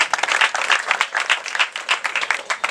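A crowd applauds steadily for the mayor and his delegation at a parish Father's Day celebration, dense continuous clapping that stays close and full throughout.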